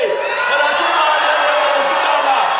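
A crowd at a Telugu public event for poor women receiving house-site deeds cheers and shouts in a steady, loud, continuous roar, with whoops rising above the noise throughout.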